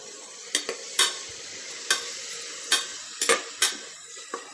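A spoon stirs onions, green chillies and curry leaves in a pan for goat head curry. Crisp metallic clacks and scrapes recur at irregular intervals over a steady background sizzle, with no voices.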